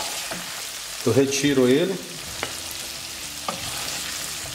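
Shrimp frying in olive oil in a pan gives a steady close sizzle, with a short burst of speech in the middle and a few sharp utensil clicks against the pan.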